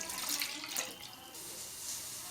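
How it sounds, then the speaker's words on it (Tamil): A cup of water is poured into a pan on the stove for chicken pasta, a soft close splash that trails off into quiet. "இதுல ஒரு கப் தண்ணி ஊற்றி கொதிக்க வச்சுக்கலாம்."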